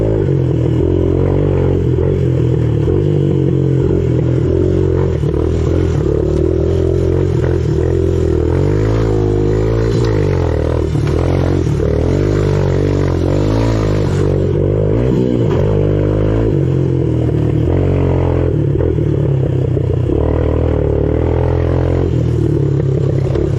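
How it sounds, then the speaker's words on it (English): 250 dirt bike ridden hard on a training lap, a loud, close engine that rises and falls with throttle changes, with clattering and scraping mixed in and no talking. "Recently I was riding the 250 out in the back trying to do some training."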